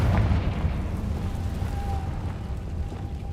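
A deep, rumbling fire-spell explosion in the video game Hogwarts Legacy, a loud low boom that rolls on and slowly fades across several seconds, with no talking.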